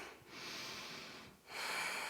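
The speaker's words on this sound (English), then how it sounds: "Breathe." Two long, deep breaths during a yoga power flow, each a steady airy rush close to the mic with a brief pause between, no talking over them.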